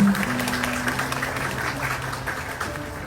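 An audience claps at a wedding stage show, a steady wash of applause that runs the whole time, fairly close, with a voice faintly audible beneath it.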